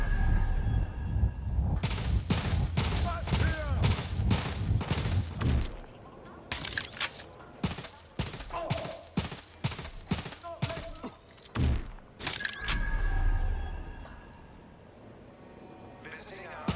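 Gunfire from the video game Watch Dogs: Legion rattles in loud bursts and rapid volleys, broken by short pauses, with in-game voices shouting over the shooting.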